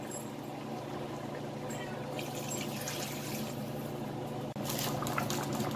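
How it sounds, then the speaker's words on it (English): Cabernet Sauvignon red wine poured into a pot of braising short ribs: a steady, continuous liquid pour that runs the whole time at moderate level and ends with a brief splash near the end. "And next we're adding red wine."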